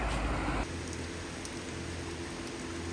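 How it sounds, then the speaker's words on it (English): Steady hiss of rain falling in a rainstorm near Bremen, constant and enveloping, with a heavier rumbling burst at the very start. "It's a rainstorm, and it's never going to stop."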